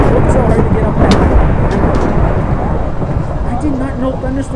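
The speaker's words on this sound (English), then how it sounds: "This is one nasty thunderstorm" Minecraft Pocket Edition thunderstorm, a loud rolling thunder rumble with crackling bursts that fades into a low steady roar, with a person talking over it.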